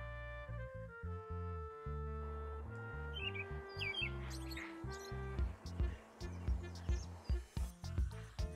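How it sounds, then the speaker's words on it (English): A kingfisher gives brief squawking calls set against a loud backdrop of steady, melodic music with regular beats, the bird sounds faint and partly masked. "This is kingfisher."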